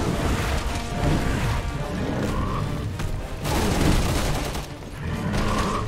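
Repeated volleys of gunfire and impacts in Resident Evil 6, coming in surges of shots and crashes at fairly close range, with no talk over them.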